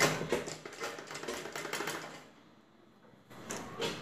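A sewing machine stitches the side seam of a back-open prince-cut blouse in a close, rapid mechanical chatter that stops for about a second and then resumes briefly.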